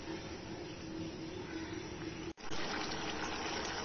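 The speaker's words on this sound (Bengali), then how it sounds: "চিকেনটা আরো 15 মিনিটের জন্য আমি ফুটতে দেব।" Chicken boiling in a pot for pepper chicken, a steady bubbling wash of liquid that cuts out briefly midway and then returns slightly louder.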